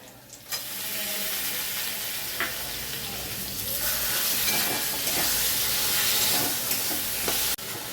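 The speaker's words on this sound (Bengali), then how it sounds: "এখন প্রথমে দিয়ে দেব পেঁয়াজের পেস্টটা, এর মধ্যেই লবণ হলুদটাও দেওয়া আছে।" Onion paste seasoned with salt and turmeric hitting hot oil, a loud steady sizzle that bursts in suddenly and keeps hissing close up, with faint stirring scrapes and no talk.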